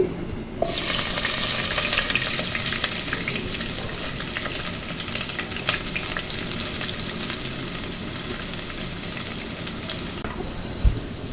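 Chopped onion fries in hot oil in a pan, a loud, continuous close sizzle that starts suddenly and holds steady, with a small clatter near the end and no voices.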